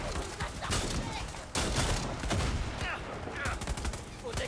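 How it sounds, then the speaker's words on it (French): Machine gun fire in the Far Cry 6 video game, dense continuous bursts of automatic shots at steady loudness with a sharp jump partway through, mixed with game effects. "Qu'est-ce que c'est comme arme encore? Ça va être la dernière. La mitrailleuse."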